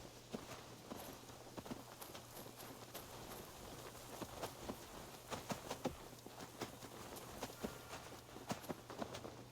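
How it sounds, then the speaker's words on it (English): Footsteps of a wolf companion in an Assassin's Creed game, a steady run of soft, fairly loud steps over a low ambient hum, without talk. "Wolf sure does have loud footsteps."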